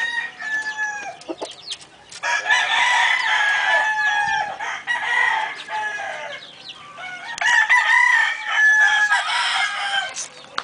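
Paul Webster stag roosters at a gamefowl farm in Caoayan, Ilocos Sur, crowing loudly in two long bursts with clucking between, close to the listener and with no talk.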